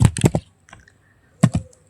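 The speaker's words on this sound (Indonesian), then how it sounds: "mengetik localhost" Quick keystrokes on a computer keyboard, a burst of four close clicks, a pause with faint taps, then two more presses, crisp and near with no talking.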